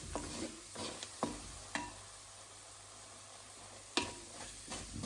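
A spoon scrapes and knocks through chili powder and spices in a pan on the stove, giving quiet irregular clicks and taps over a soft steady sizzle, with no voices.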